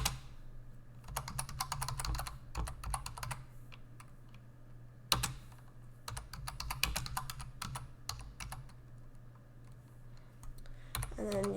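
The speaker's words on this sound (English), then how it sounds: "I'm not really very good at typing and talking at the same time." Bursts of rapid typing on a computer keyboard, with close, crisp key clicks in several runs separated by short pauses over a faint steady hum.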